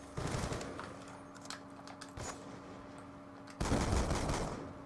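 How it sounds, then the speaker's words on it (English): Shotgun blasts in Call of Duty on the Nuketown map during a free-for-all match, with two loud broadband bursts a few seconds apart over a steady background of game noise. "Yeah, I got a shotgun"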